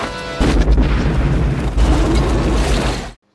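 A bomb explodes in the action film Hard Target, a loud, sustained booming blast that starts abruptly and rumbles heavily for about three seconds before cutting off.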